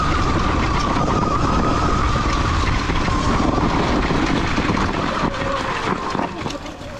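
A stock Sur Ron X electric dirt bike runs at full throttle, its steady high motor whine droning loudly under rushing wind noise, then easing slightly near the end.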